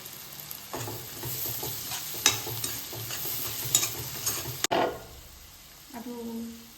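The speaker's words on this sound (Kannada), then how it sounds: "ಗರಂ ಮಸಾಲ ಸ್ವಲ್ಪ ಹಾಕ್ಕೊಂಡು ಅದು ಫ್ರೈ ಮಾಡ್ಕೊಳ್ಳೋಣ ಚೆನ್ನಾಗಿ." Garam masala and spices being stirred and fried in a pan for palak paneer, a steady close sizzle with spoon scrapes for about four seconds before it cuts off, then a brief quieter sound.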